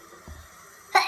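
A single sneeze bursts out sharply near the end, after a brief soft breathy sound, in an otherwise quiet room.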